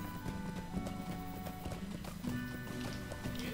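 Horse hooves clip-clop steadily at a walking pace in the Lord of the Rings Online video game, close and continuous over game music, with a brief whinny-like tone.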